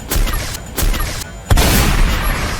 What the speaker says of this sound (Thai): เออระเบิด